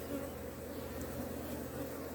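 Honeybees drone in a dense, continuous buzz over an open brood frame from a hive being inspected. The hum is close and steady throughout.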